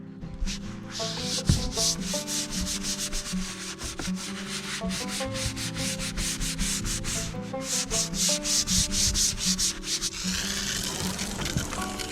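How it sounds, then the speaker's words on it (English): Rapid back-and-forth scrubbing of a brown-stained roof seam patch with Simple Green cleaner, a steady rhythmic brushing rasp with wet swishing, close and continuous throughout. "So right now I'm scrubbing it with some simple green"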